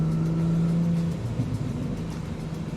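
An Audi B9 S4 with a tuned ECU hums at a steady engine note that shifts and roughens as it begins to accelerate, a close, moderately loud drone.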